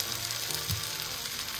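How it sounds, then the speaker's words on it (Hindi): Fried okra tipped into a pan of cooked onions and oil gives a steady close sizzle throughout, with a brief louder crackle as the okra lands. "प्याज पक चुके हैं तो मैं इसमें अभी डालूंगी भिंडी जो मैंने फ्राई करके रखी हुई थी।"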